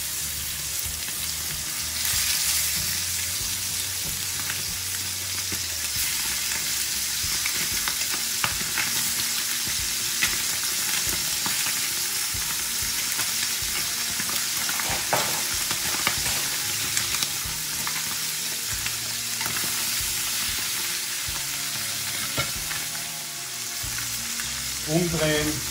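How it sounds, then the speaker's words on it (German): Loud, continuous sizzling of chicken frying skin side down in hot fat, a dense crackling hiss with occasional pops and spatters, close up and without talk. "Jetzt im heißen Fett zuerst mit der Hautseite anbraten"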